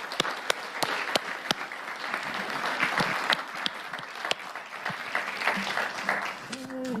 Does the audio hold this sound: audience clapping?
yes